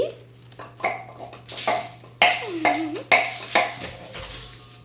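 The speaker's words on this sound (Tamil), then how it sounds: "போஹாக்கு என்னென்ன இன்க்ரீடியன்ஸ்லாம் போடுவோமோ அதெல்லாம் கட் பண்ணிகிட்ருக்காங்க வெங்காயம் பச்சை மிளகாய் பூண்டு இஞ்சி" Onion, green chili, garlic and ginger are chopped for poha: irregular knife knocks and clinks on a board, close by, with a steady low hum underneath.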